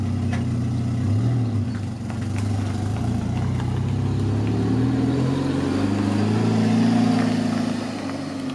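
A Mazda Miata pulls away with a steady mid-pitched engine hum that swells slightly as it revs, moderately loud and continuous, with no talk.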